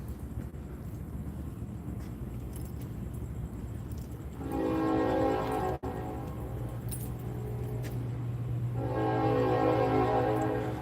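A train passes through New Orleans late at night, its long horn blasting in two sustained, loud stretches over a steady low rumble of the cars rolling by.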